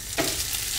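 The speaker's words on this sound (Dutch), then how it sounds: "Ik laat wat plantaardige margarine smelten in een koekenpan. En daar gaat de scrambled tofu bij." Scrambled tofu frying in melted plant-based margarine in a frying pan, a steady bright sizzle with a brief stirring scrape near the start.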